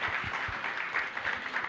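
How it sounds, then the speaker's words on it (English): An audience applauds at a Constitution Hill event marking 30 years of democracy, giving a dense, steady patter of clapping from a crowd that stays even throughout, with no voices over it. "So a round of applause for them again"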